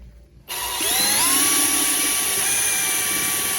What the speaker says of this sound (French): On dévisse, on revisse relativement facilement.